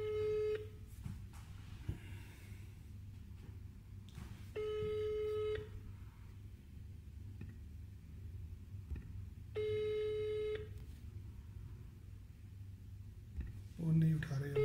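An outgoing phone call rings without being answered, three evenly spaced ringback tones about five seconds apart over a low steady hum, with faint background sounds between them.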